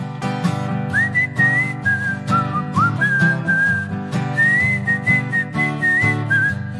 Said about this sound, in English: Whistle along, would you please?